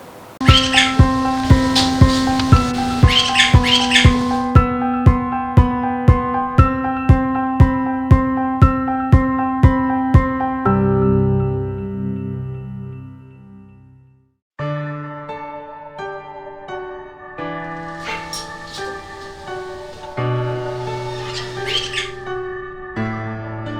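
Bali mynas, also called Bali starlings, a near-extinct species kept at a conservation site in Sibangkaja village, Badung, Bali, give loud repeated harsh calls in a steady rhythm, then pause and return with varied squawks and tonal chirps.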